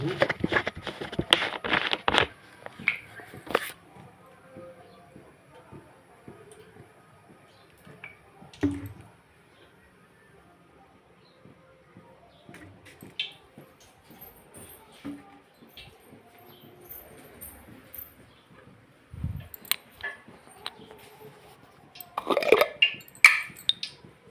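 Mustard seeds crackling in hot oil for fish curry, with sparse pops and ticks scattered over a quiet background and an occasional clatter of cookware.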